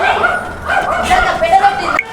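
A dog set loose on a cow yips and barks in short bursts close by, with people talking over it throughout.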